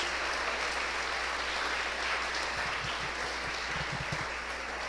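Steady, dense clapping from a church congregation at a Sunday morning service, sustained at even loudness throughout, with a few low thumps near the end and no speech.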